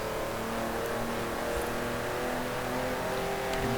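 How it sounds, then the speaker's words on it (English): A classic Triumph TR3B sports car engine revs hard as it is floored out of corners, a steady loud drone that holds for a few seconds, with a faint hint of tyres sliding. "This car loves to slide around as well, especially when you floor it out of corners."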